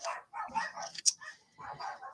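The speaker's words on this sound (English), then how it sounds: "oh, dogs." Several dogs barking indoors in short, repeated bursts, close and fairly loud, with a sharp yip standing out among them and a brief pause before more barks follow.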